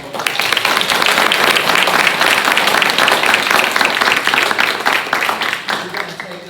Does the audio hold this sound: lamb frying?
no